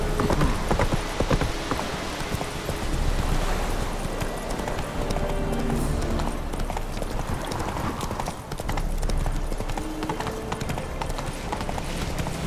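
The horse Roach gallops in The Witcher 3, with loud, continuous rhythmic hoofbeats clip-clopping close by throughout over a dense game background.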